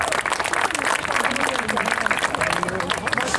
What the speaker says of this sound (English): Would you please give a warm round of applause to Mayor Matt Mahan.